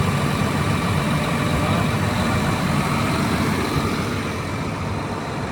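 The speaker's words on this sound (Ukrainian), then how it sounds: "робота двигуна." A John Deere R4038 sprayer's heavy engine runs continuously close by, a loud, steady low rumble with broad mechanical noise that never lets up.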